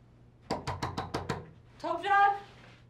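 Five quick, sharp knocks on a hotel room door, evenly spaced, followed by a voice shouting.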